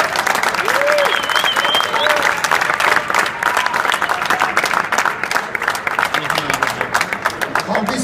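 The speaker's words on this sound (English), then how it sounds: "please a very big applause to the big champion, the 8-time Mr." Audience applause for eight-time Mr. Olympia bodybuilder Ronnie Coleman at a hosted event, dense sustained clapping from a large crowd filling the whole stretch, with faint voices and a whistle rising above it.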